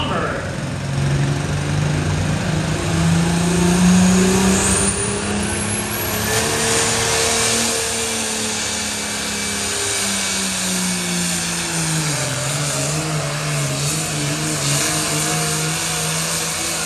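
A pulling tractor roars through a competition run, its engine note climbing and shifting as it strains down the track, loud and continuous throughout, with an announcer's voice faintly underneath.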